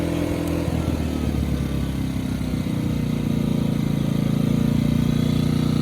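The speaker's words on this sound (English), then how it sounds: "So I'm gonna go ahead and idle it down into eco mode" An A-iPower 2000-watt inverter generator running with no load, throttled down into eco mode, gives a steady, close, loud engine drone that holds for the whole stretch with no talking.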